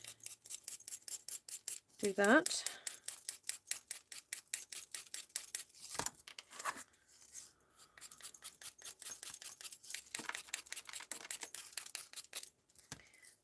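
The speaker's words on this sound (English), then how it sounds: "this time I'm going to get my scissors" Scissors snip through heat-embossed stamped paper in quick, steady strokes, a dense run of close crisp cuts with brief pauses, and a voice speaks briefly.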